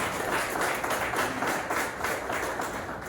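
A church congregation at a healing and deliverance service gives a sustained round of applause, dense and steady from start to finish with no break.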